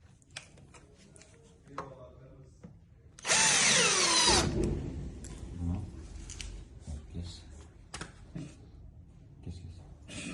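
A power drill whirs loudly for about a second, driving screws to fix hinges onto a shoe cabinet door, while someone speaks before and after the burst.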